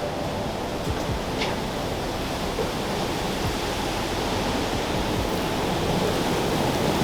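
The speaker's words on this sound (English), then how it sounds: "the roar of water is deafening" A large waterfall seen from a trail passing behind it thunders in a constant, deafening roar of falling water, steady and close with no voices.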